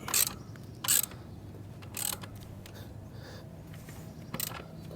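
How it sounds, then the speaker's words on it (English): A ratchet tightens the rear axle of a Sur-Ron X electric dirt bike after a chain install, heard as several short bursts of rapid clicking spaced apart, close by, over a low background rumble. "go ahead and tighten your rear axle back up"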